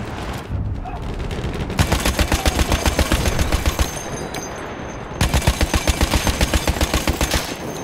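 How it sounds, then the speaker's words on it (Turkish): Rapid automatic gunfire aimed at the player in Battlefield 1, two long bursts of loud, evenly spaced shots separated by a brief lull, with battlefield rumble underneath. "Biri sıkıyor bana."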